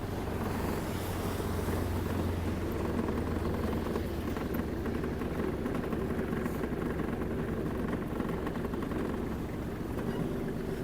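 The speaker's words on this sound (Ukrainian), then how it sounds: "Двигун працює рівно, чітко." A Kubota KL-25 Japanese mini tractor's engine runs steadily and evenly while it reverses, a continuous low rumble with some wind buffeting, moderately loud and unbroken throughout.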